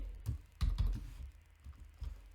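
Typing on a computer keyboard, a short uneven run of soft key clicks and thuds close by, with a few quick strokes clustered together and pauses between them.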